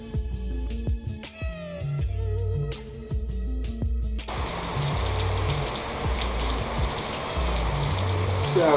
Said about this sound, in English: And as you can see, we're getting rain today.